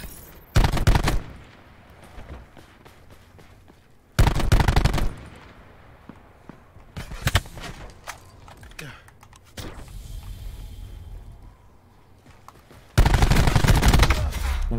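Handgun fire in the video game Black Ops 4 arrives as four loud, sharp bursts spread across the stretch, with quieter game noise and faint clicks between them.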